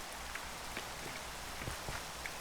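Rain falls steadily in Minecraft, a soft continuous patter of drops on surfaces with scattered individual splashes, alone without voices.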